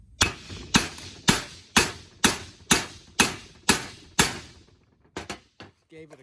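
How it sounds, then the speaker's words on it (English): A hammer strikes a leaking engine valve on a junkyard HEMI about nine times in a steady, evenly spaced rhythm of sharp, close metallic whacks, followed by a few quieter knocks and a voice near the end. "Hammer and the valve that's leaking so bad."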